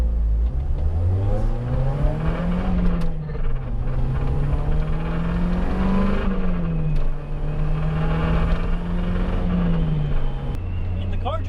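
A supercharged Mazda MX-5 Miata with a hard top is driving, its engine droning steadily and rising and falling in pitch through gear changes, loud and close throughout, with some voice mixed in.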